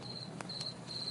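Cricket chirping in steady, close, high-pitched trills that repeat in short bursts over a quiet background, with no voices.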